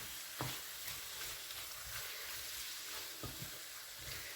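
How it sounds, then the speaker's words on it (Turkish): Meat and tomato paste sautéing in a pan for a stuffed eggplant dish, a steady close sizzle running throughout with a few sharp scrape or stir clicks, no voices. "Şimdi bunları güzelce soteleyeceğim."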